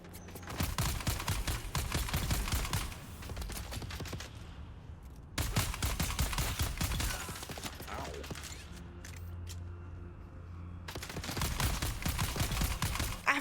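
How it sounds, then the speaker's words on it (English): Bursts of rapid gunfire from a new gun in Dune: Awakening, sustained automatic volleys broken by short pauses, loud and close, with clicks and mechanical sounds in the gaps. "I finally got to try out my new gun"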